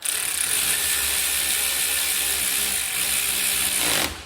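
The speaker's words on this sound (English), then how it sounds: "on my ratchet, it's a snap-on" A Snap-on ratchet clicks in a steady, close, continuous run of fast pawl ticks that stops abruptly near the end, with no talking.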